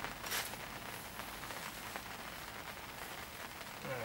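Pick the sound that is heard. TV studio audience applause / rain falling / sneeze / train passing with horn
rain falling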